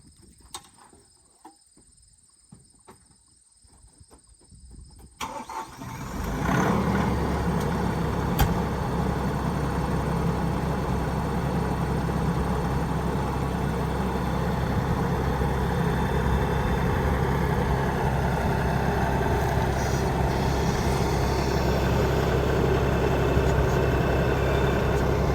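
A compact tractor's engine cranks and catches after a stretch of quiet outdoor ambience, then settles into a loud, steady idle that rumbles on without a break for about twenty seconds, with no talk over it.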